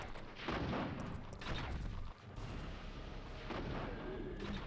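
Heavy booming blasts from the rocket launcher in the original Resident Evil 3, several separate loud bursts with rumbling tails, spaced irregularly over a few seconds and heard alone.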